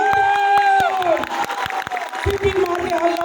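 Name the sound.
audience applause and cheering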